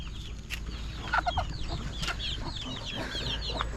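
A broody hen sitting on eggs clucks softly in short bursts over a steady low farmyard hum, with a few sharper bird calls near the middle.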